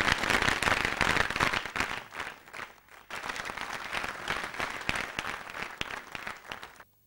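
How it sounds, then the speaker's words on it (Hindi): An audience applauds an actress at a televised variety show, loud continuous clapping from a crowd that thins and fades out toward the end. "बहुत सारी तालियां"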